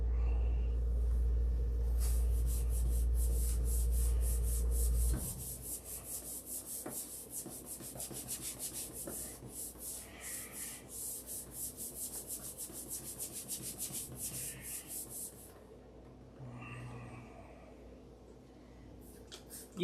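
Steady hand sanding and rubbing on wood, a continuous scratchy back-and-forth rasp that runs close and fairly quiet, preceded by a low droning hum for the first few seconds.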